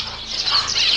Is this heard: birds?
yes